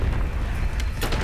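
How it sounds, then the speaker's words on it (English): An impact grenade in the Black Ops 6 video game goes off as a heavy, rumbling boom with a dense low roar and a few crackling bursts, loud and close. "Impact grenade thrown."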